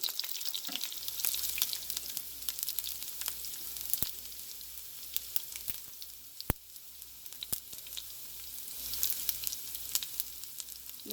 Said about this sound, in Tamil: உள்ளி போட்டோன்னா உங்களுக்கு நல்ல ஒரு வாசம் தரும்